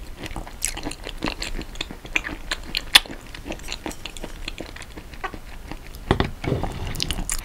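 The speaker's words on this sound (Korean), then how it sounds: "새우가 통통하니 뽀득뽀득 씹히는 게 너무 맛있습니다" Close-up chewing and biting of plump soy-marinated shrimp eaten with egg and rice, a run of soft, moist crunchy bites repeating through the clip with no talking.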